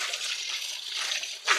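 Fresh water gushes steadily from a newly drilled borehole in Gambia, a constant loud rushing hiss with a brief splashing surge near the end.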